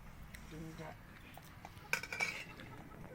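Egg curry being served gives a few light clinks and taps of utensils against dishes, with a brief brighter cluster of clinks in the middle, quiet and close, with faint talk nearby.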